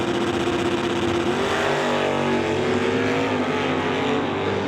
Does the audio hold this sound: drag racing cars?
yes